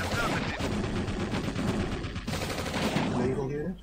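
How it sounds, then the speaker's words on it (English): Rapid Gatling gun fire in Command and Conquer: Red Alert, a steady fast rattle of shots that runs almost unbroken, loud and close, tapering off at the end. "Sound like it's firing a Gatling gun at me?"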